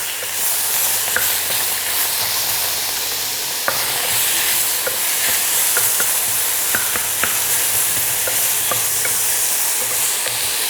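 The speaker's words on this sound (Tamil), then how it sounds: "இந்த தக்காளி வந்து கொலையாக கொஞ்சம் வதக்கணும்" Tomato and onions sautéing in a pan for Chettinad summa kuzhambu, a steady close sizzle with occasional stirring clicks and scrapes throughout, no talking.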